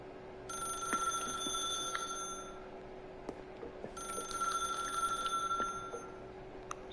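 A telephone rings in The Stanley Parable video game, two long trilling bursts with a short pause between, clear and fairly close over a quiet low hum.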